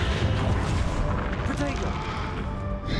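A Confringo blast spell in Hogwarts Legacy sounds as a dense, roaring explosion that fills the whole stretch, with booming low rumble and crackling debris and no clear pause.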